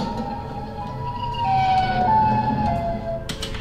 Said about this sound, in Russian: Этот звук называется «Чикагская сирена».